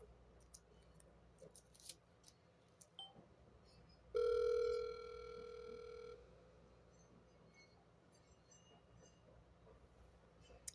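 One telephone ringback tone from an unanswered call sounds clearly for about two seconds, with an otherwise quiet line before and after it.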